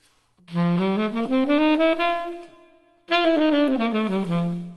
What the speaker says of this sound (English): they often refer this to as the bebop scale, and it sounds like this.